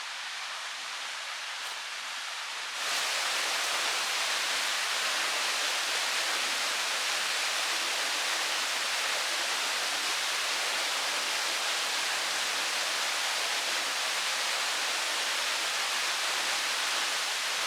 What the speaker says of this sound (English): hundreds of waterfalls in the Ozarks in Arkansas.